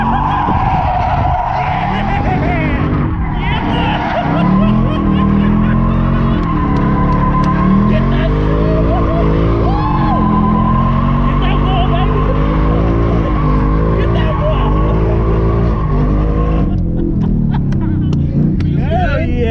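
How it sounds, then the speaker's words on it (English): Drift car skidding at Speed Vegas, heard from a ride-along: a loud, continuous roar of engine and squealing tires that rises and wavers in pitch for the whole stretch, with people shouting and cheering over it. "drift car heading out"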